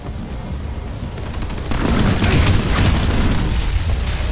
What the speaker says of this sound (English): Just throw a Molotov at it.